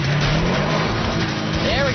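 A car accelerates hard from a race start on ice, its engine loud and close with a steady roar that climbs in pitch through the gears, someone talking over it.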